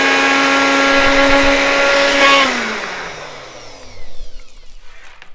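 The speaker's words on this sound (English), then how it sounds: "My blender is slightly too big, but my small one is occupied right now." A kitchen blender whirs loudly and steadily for about two seconds, then winds down as the motor slows and stops, leaving a brief rattling settle.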